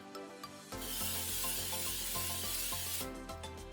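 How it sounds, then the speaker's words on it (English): Olive oil is sprayed into an air fryer basket in one steady hissing burst lasting about two seconds, loud and close, with quiet kitchen noise before and after. "spray some olive oil into the basket"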